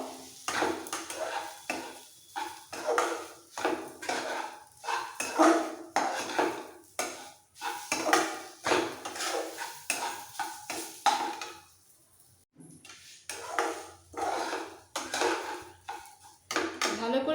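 Roasted semolina being stirred in a pan for upma, a spoon scraping and clinking against the metal in a quick, irregular rhythm, close and fairly loud, with a brief pause near the end.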